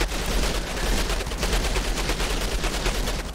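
Rapid, continuous automatic fire from a gun in Outriders hammers steadily throughout, a loud, dense stream of closely spaced shots with no pauses.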